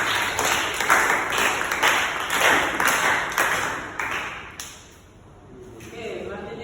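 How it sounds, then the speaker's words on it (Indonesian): A vocational school class claps together in a computer lesson, a burst of quick hand claps with sharp ringing taps that stops abruptly around two thirds through, followed by quieter room sound and faint voices. "Tepuk tangan buat Mama."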